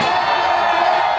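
A large crowd of over 52,000 fans cheering and whooping at a Dodger Stadium baseball game, a loud, dense roar with no individual voices standing out.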